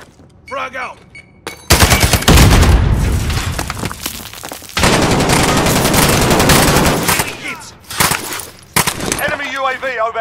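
Video game firefight with a frag grenade explosion, dense bursts of automatic gunfire and heavy booms filling most of the span, with brief quieter gaps and a voice speaking at the start and end.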